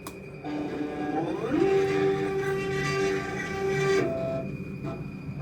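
A laser cutter's motors hum as the machine moves to align itself, a steady whine that slides upward in pitch, holds for a couple of seconds, then drops away.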